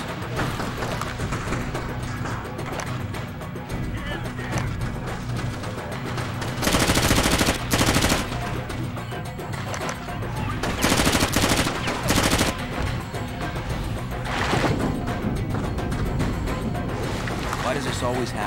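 Gunfire in Far Cry Instincts Evolution on Xbox: machine-gun bursts rattle loudly among constant shooting, with several long, intense volleys and game voices talking throughout.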